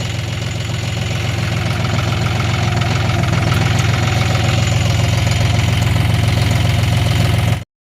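A tractor engine runs steadily in a field during sowing, a loud, close, even diesel chug with a rhythmic knocking throb that continues without pause and then cuts off abruptly near the end; no talking.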